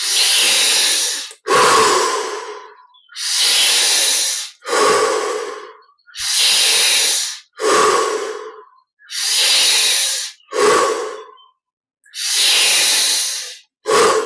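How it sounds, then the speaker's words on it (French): Slow, deep breaths during a guided meditation, loud and close, each inhale followed by a long exhale in a steady repeating rhythm with short silent pauses between. "Encore 10 respirations profondes."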